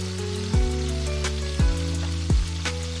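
Sugar going into carrot halwa in a hot pan, a steady sizzle under a droning hum, broken by three sharp, evenly spaced knocks or scrapes of a spoon.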